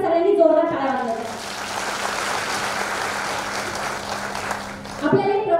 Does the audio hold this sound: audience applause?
yes